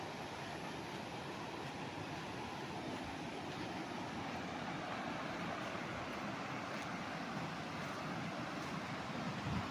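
Flowing river water in Majayjay, Laguna rushes in a steady, broad wash of noise, faint and unchanging, with no voices.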